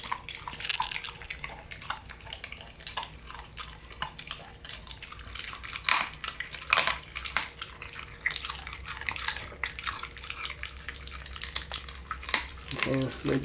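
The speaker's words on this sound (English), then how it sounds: "All you hear is crunch, crunch, crunch, crunch, crunch." An American Pitbull puppy crunches through kibble and meat up close, a steady run of sharp, irregular crunches and clicks over a low background hum, with faint talk at times.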